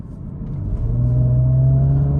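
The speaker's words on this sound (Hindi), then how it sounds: "एग्जॉस्ट नोट भी आता है ना" An Audi S5 Sportback engine in dynamic mode rises into a deep, throaty exhaust drone that swells and holds steady, loud and close, with no talking.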